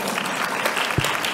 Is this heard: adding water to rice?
no